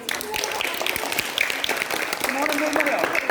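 A crowd of students and teachers bursts into applause for a small child's question, steady clapping throughout with voices mixed in.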